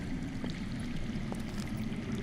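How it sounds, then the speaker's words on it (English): Underground water in the Telltale Game of Thrones video game flows with a faint, steady rushing and gurgling, low and continuous, with no voices over it. "I hear water. From underground."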